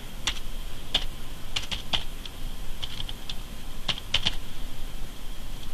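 Name and date typed on a computer keyboard, a loose run of close, crisp key clicks in short bursts with uneven gaps between presses.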